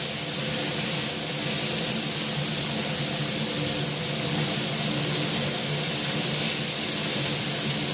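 Vegetables fry in a pan with a continuous loud, even hiss of sizzling oil, close and steady throughout with no talking.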